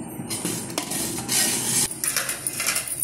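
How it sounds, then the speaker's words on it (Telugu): Rice flour being shaken through a metal sieve for Telugu coconut burelu, giving a steady scraping rattle with sharper taps and clinks against the rim, close and fairly loud with no one talking. "మనము పిండి ఇలా జల్లెడ పట్టుకోవాలండి."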